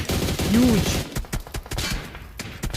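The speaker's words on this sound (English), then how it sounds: "sprays are being initiated from the side of Nolbu" Rapid sprays of gunfire rattle through a PUBG Mobile esports match, with bursts of shots mixed under a commentator's voice.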